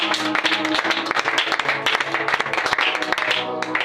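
A church congregation applauding and acclaiming Jesus, dense continuous clapping with raised voices and cheers mixed in, loud and sustained throughout.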